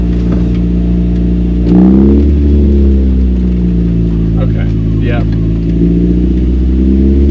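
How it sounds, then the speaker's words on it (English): A Deep Orange 3 concept car engine braking in first gear, a loud steady low engine drone with a brief rise in pitch, running continuously under a driver's short remarks. "Alright, first gear, engine brake only."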